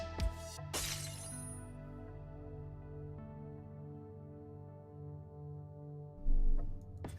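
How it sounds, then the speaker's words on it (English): Glass shatters sharply in a video game, a bright crash followed by lingering ringing tones and a second breaking burst near the end. "I apologize for the breaking glass sound."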